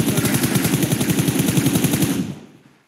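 Rapid automatic gunfire from the game PUBG Mobile rattles loudly in a continuous burst for over two seconds before stopping.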